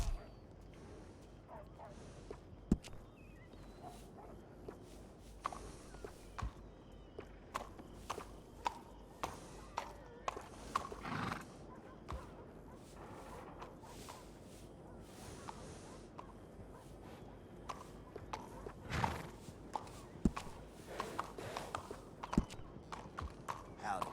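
Horse hooves clip-clop in an uneven walking rhythm in a video game, close by, over a busy low ambient background, with a possible whinny among the steps.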